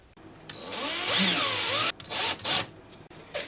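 A power drill runs in a few bursts, whining up and winding down as parts of a DIY UV chamber are fastened together, with short pauses between runs and the pitch rising and falling.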